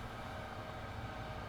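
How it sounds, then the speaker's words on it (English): Brakes on a train in Train Sim World 2, on the Long Island Rail Road route, produce a steady, constant rumbling hiss with no voices. "Actually quite like the noise the brakes make as well."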